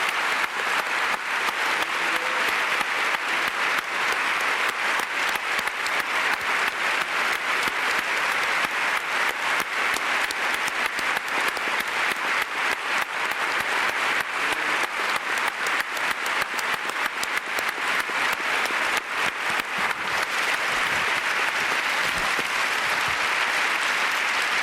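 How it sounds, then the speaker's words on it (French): Conference audience in a hall giving the two speakers a loud, sustained round of applause, a dense unbroken wall of clapping lasting over twenty seconds. "Je vous propose qu'on les applaudisse très fort."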